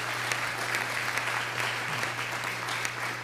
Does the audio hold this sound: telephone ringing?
no